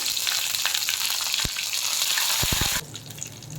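Garlic and curry leaves sizzle steadily in hot tempering oil, a loud continuous frying hiss with a few soft clicks, and the sizzle drops sharply near the end.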